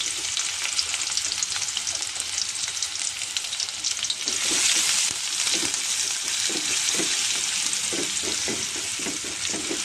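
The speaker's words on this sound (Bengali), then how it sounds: "এই যে এখানে তেল গরম করতে দিয়ে দিয়েছি, গরম হয়ে গেছে।" Oil crackles and sizzles steadily in a pan while chotpoti is cooked at home, a dense continuous fry with soft scraping stirs in the latter half, close and fairly loud, no talking.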